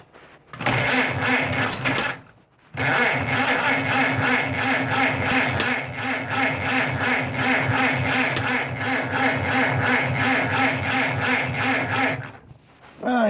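A 1925 Ford Model T with a newly installed engine cranks and tries to start, a loud steady rhythmic chugging from the starter that runs for about ten seconds after a brief pause, with no catch.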